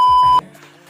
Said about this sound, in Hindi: Beep, we have to beep that sound.